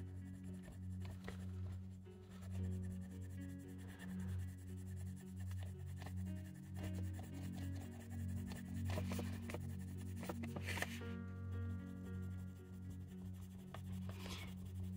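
Colored pencils rub steadily across paper as a first color is laid down everywhere, a soft continuous scratchy shading that runs close and quiet throughout with no talking.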